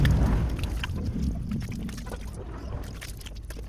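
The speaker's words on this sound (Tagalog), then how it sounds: "Balaman nyo ng tubig." Water runs and splashes steadily over Yamaha NMAX CVT parts being rinsed, with a low rumble underneath, continuous for several seconds with no talking.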